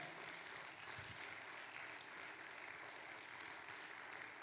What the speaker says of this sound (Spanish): Fuerte el aplauso, por favor, amado hermano.